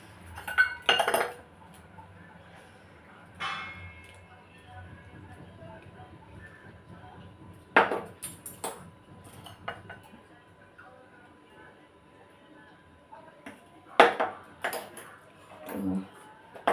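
Dishes and metal utensils clink in a home kitchen in scattered, sharp bursts a few seconds apart. A quiet background murmur runs underneath.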